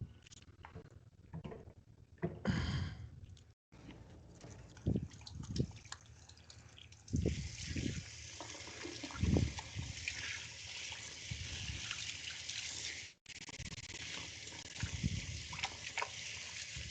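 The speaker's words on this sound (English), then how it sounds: "I gotta wash my hands." Hands are washed under a running tap in a home kitchen while chocolate logs are being made; faucet water hisses steadily for several seconds, with clatter and handling noises before and after and no talking.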